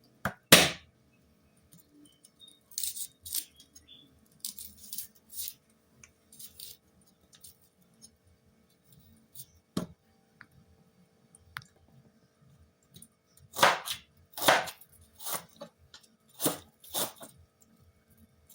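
A knife chops onion and garlic on a cutting board in close, crisp, irregular taps, with bursts of quick strokes separated by pauses.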